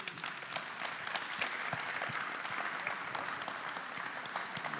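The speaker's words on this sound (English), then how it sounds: "Round of applause, please" An audience at a talk with an author about General Lesley J. McNair breaks into sustained, even applause for several seconds. The dense clapping sounds moderately distant, with no voices over it.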